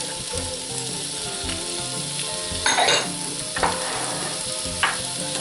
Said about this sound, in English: I'm going to throw in my pepper, celery,